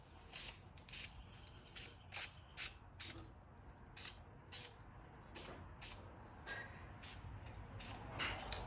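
Spray paint can sputtering in short, uneven hissing bursts despite being mostly full, likely from a bad nozzle, while painting a masked intake on a 440 engine; the spurts come about a dozen times, fairly quiet, with no talk.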